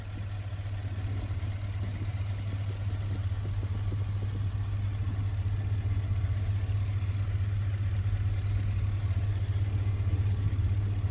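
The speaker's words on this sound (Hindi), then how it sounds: "V8 इंजन बेंटली का।" A 2017 Bentley Mulsanne's V8 engine runs at a steady idle, a constant low, deep hum with a faint, even mechanical rumble and no revving throughout.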